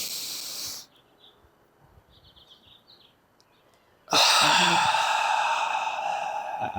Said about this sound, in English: You take a deep breath in.